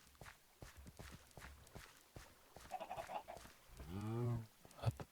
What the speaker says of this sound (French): Ah, les poules.